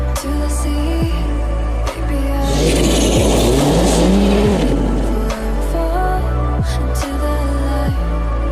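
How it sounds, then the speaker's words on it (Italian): A rally car drives on a dirt stage during a technical test day, its engine loud and close, revving and shifting gears, with a surge of gravel and dirt spray in the middle of the run. "Giornata di prove tecniche su terra con Fabrizio Martinis, pilota di spessore"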